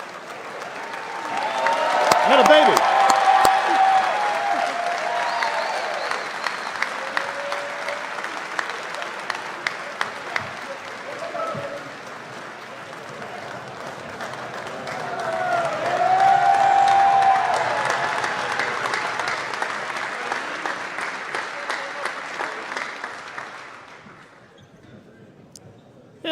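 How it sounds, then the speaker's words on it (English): A crowd at a football team's awards night breaks into sustained applause with cheering, swelling twice and carrying sharp individual claps before fading away, with a brief voice heard over it. "let's give him a nice round of applause"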